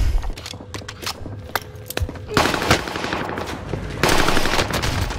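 Rapid automatic gunfire on Call of Duty's Rebirth Island, sharp close bursts of machine-gun shots crackling across the whole stretch, growing louder and denser in the second half.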